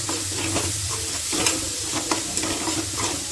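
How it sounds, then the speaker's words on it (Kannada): Spices crackle and sizzle in hot oil as a tempering for poha, with steady frying hiss and a few sharper pops and stirring clatters, close up and without talk. "ಎಲ್ಲ ಒಗ್ಗರಣೆ ಹಾಕಿ ನೋಡ್ರಿ"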